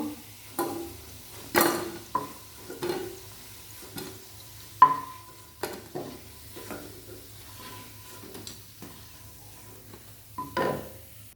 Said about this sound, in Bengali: বাদ বাকি বড়াগুলো আমি সুন্দর করে ভেজে তুলব